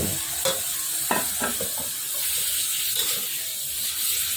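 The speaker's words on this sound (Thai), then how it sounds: "พอใส่ใบกะเพรา ลงไปแล้วนะครับก็คลุกเคล้าให้เข้ากันครับ" Shrimp and holy basil leaves get stir-fried in a pan. A continuous sizzling hiss runs under the whole stretch, and a few sharp scraping clatters of a spatula against the pan stand out near the start.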